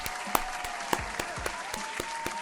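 Hand claps ring out in a loose, uneven burst of applause, with sharp irregular claps from a small group, close and clear with no talk over them.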